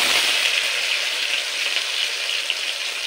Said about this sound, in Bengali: এই সময় দিয়ে দেব কেটে রাখা আলু